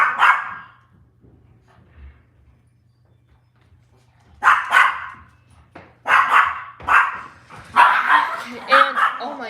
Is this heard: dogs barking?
yes